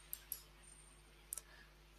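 Faint, sharp mouse clicks on a software interface, two pairs of quick taps about a second apart, set against a quiet hum.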